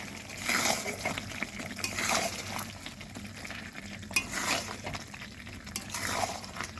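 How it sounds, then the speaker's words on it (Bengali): Chicken stir-fried in oil with spices in a pan: continuous soft sizzling and frying with rhythmic scraping swishes of a spatula stirring, close and moderately quiet, with no talking. "এইবার এইভাবে ভালো করে কষাতে হবে।"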